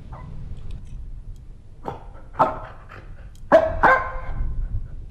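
Dog barking inside a paranormal horror video game: a few sharp barks spaced over several seconds, growing louder and closer toward the end, over a low rumbling ambient background with no talk.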